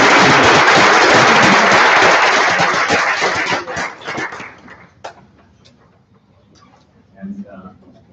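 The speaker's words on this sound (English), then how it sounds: "we'll have a round of applause both for Lynn and Laura" An audience at a neurological symposium claps loudly and densely for several seconds, then the applause thins into scattered claps and fades out, followed by quiet room noise.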